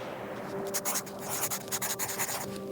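A pencil scratches out a message on a small slip of paper, close and dry, in short irregular bursts of strokes over a steady low hum.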